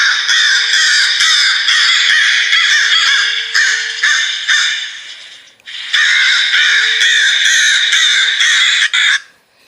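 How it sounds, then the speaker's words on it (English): Crows caw loudly and harshly in two long, dense runs of calls separated by a brief dip, close and unbroken. "the sound of crows crowing"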